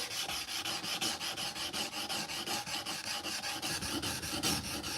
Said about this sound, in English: I'm just sitting here hand sanding.